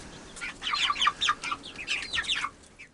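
Laying chicks and about six meat chickens chirp and cluck together under a heat light on a spring hobby farm, a busy overlapping chatter of quick, bright peeps that stays fairly close and steady throughout.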